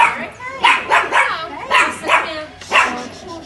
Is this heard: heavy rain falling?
no